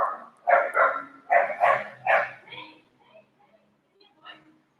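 Several dogs bark in quick, overlapping bursts through the first three seconds, close and loud, then trail off into a few faint yips and whimpers.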